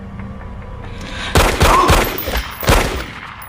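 Several loud gunshot bursts crack out in a tense film scene, sharp broadband blasts spaced irregularly over a low background.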